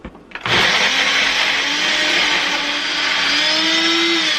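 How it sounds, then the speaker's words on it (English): Blender puréeing bok choy with MCT oil, starting with a brief clatter and then a loud, steady high-pitched motor whine that rises slightly in pitch as the mixture smooths. "Let's go ahead and blend this up."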